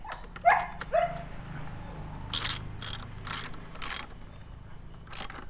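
A ratchet wrench tightens bolts on car seat rails while a 2020 Isuzu D-Max seat conversion set is installed in an Isuzu Dragon Eye pickup. Several short, bright bursts of rapid ratcheting clicks come close up, separated by brief pauses, over low background noise.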